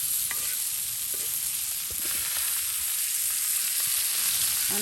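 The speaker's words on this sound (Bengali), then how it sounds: "মাটির চুলায় কত সুন্দর করে মাছগুলো ভেজে নেওয়া হচ্ছে।" Pangasius fish belly pieces fry on a clay stove with a steady, dense sizzle and crackle, joined by scattered soft knocks and stirring sounds, all close and uninterrupted by speech.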